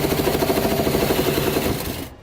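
A 3.5-inch hole saw chews through the bed of a 2017 Ram pickup truck, giving a steady, loud buzzing drone with fast rhythmic chatter that winds down at the end.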